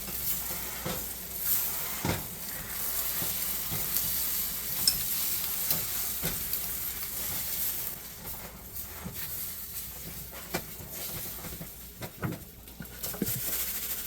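Eggs sizzling and frying in a pan while a spatula scrapes and pulls them forward, a steady close hiss broken by soft scraping strokes and light clinks of the utensil on the pan.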